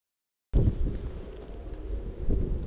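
Wind gusting steadily across an open frozen lake during ice fishing, a loud continuous low roar and buffeting after a brief silent start, with no voices.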